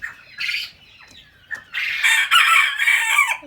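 Chickens clucking and squawking inside a coop, with a rooster crowing loudly and close in the second half over the hens' chatter, no speech.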